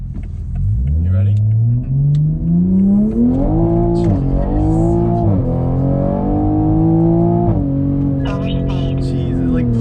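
A Toyota Chaser engine revs hard after an engine swap and climbs steadily in pitch through the gears, loud and close, with a roaring exhaust throughout.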